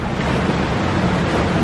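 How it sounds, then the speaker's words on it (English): Tidal water of the River Thames washes in a basin in east London, a loud broad rushing wash mixed with wind buffeting the microphone, continuous and unbroken. "the tide's picking up now"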